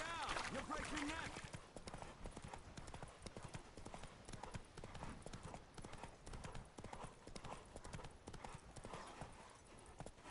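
Roach, a horse in the video game The Witcher 3, gallops with fast, rhythmic clip-clop hoofbeats that stay close and steady. A brief neigh and a burst of louder commotion come at the start.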